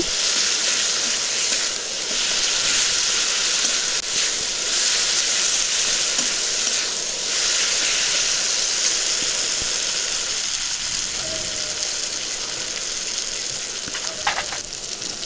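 Turmeric and spices fry in hot oil in a pan with a steady, continuous sizzle while being stirred, for potol and prawn curry, with occasional light scrapes of a spoon and no talking.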